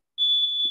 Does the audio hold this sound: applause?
no